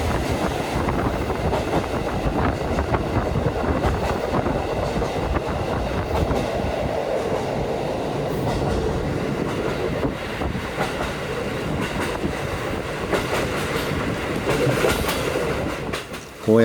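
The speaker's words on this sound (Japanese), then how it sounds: "こうやって列車の窓を開けると秋の風が入ってきてすごく気持ちいいんですよね" A train on the Nemuro Main Line between Takikawa and Furano, Japan, rolls along steadily with a window open, a loud, close rumble and rhythmic clickety-clack of wheels on the rails, and wind-like rushing throughout.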